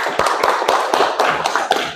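A class of children claps together in a steady rhythmic pattern of loud, close hand claps, evenly spaced beats repeating throughout.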